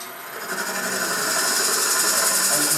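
Sorby hollowing tool cutting wood on a spinning lathe at modest speed, a steady rushing, whirring scrape that builds slightly in loudness and holds on, close and continuous with no voices.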